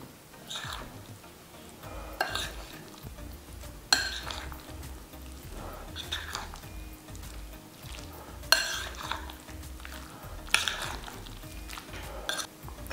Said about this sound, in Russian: Теперь все это хорошенечко перемешиваю.